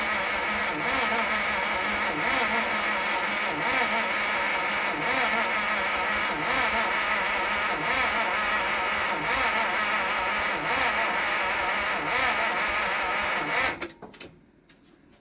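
1952 Pontiac Chieftain engine being cranked on a first start attempt with a weak starter, a steady rhythmic churning with periodic pops, running fairly loud before cutting off abruptly near the end.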